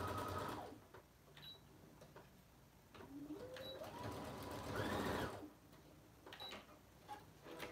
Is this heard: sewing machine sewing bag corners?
yes